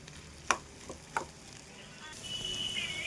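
Food frying in a pan on a home stove, a soft steady sizzle with a couple of sharp clinks from a utensil, close and fairly quiet, and the sizzle grows a little toward the end.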